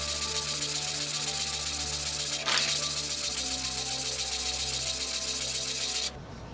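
The cast iron sole of a Defiance #3 hand plane is rubbed flat on 100-grit sandpaper, giving a continuous, close, gritty scraping of steady back-and-forth strokes that stops abruptly near the end.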